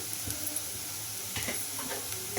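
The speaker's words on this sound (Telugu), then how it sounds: "ఈ అల్లం ముక్కలు కూడా కొద్దిగా బాగా ఫ్రై అవ్వాలి" Small ginger pieces frying in oil alongside onions and a dried red chilli, a soft continuous sizzle with a few light taps of stirring, close and fairly quiet.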